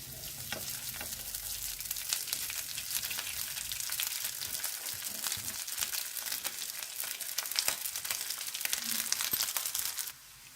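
Curry leaves and cooked rice fry in a hot pan, giving a steady, close crackling sizzle with scattered sharp pops and stirring scrapes. The sizzle runs continuously for about ten seconds, then stops abruptly, with no voices.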